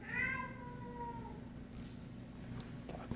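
A single drawn-out cat meow, fairly faint and fading over about a second, heard against a steady background hum in a room.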